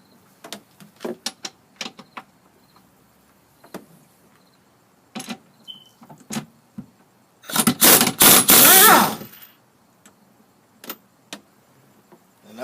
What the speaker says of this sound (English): So I'm gonna try to hit it with the air gun.